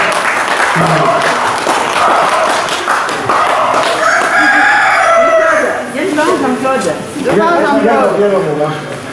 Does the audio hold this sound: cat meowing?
no